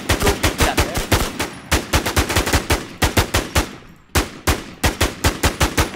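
Rapid automatic gunfire from a gun in the video game Infestation rings out loud and close in fast bursts, with a short pause before the shooting resumes.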